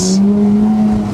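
A manual Porsche sports car on coilovers, its engine held at a loud steady drone from inside the cabin, brief and alone without voices.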